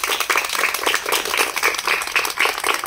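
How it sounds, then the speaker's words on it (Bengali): A school theatre workshop audience claps loudly and steadily, a dense wash of many hands lasting the whole stretch, with no break. "সবাই হাততালি দাও জোরে একটা"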